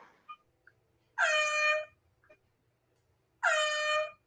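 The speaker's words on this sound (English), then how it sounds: "That was my air horn for whoever fell asleep up here." Two loud, sustained air horn blasts, each about half a second long, separated by a pause with a few faint clicks in between.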